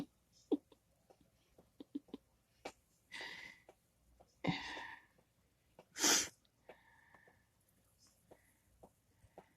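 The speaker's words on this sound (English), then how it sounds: "Sorry I had the sniffles" Quiet, intermittent sniffling with several short nasal sniffs and breaths spread out, scattered soft taps and rustles between them.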